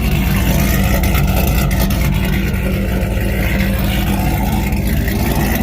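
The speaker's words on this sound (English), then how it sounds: "give it a good rev" Car engine with a new AWE exhaust, longtube headers and cam, a loud sustained deep roar heard close up, holding steady through the whole stretch with no talk.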